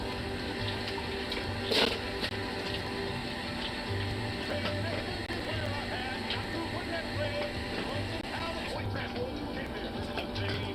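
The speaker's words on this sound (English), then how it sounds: "Might as well refill the water while we're at it." Tap water runs steadily to refill a dog's water bowl, a continuous moderate splashing flow with a brief clunk near the start and some faint voice underneath.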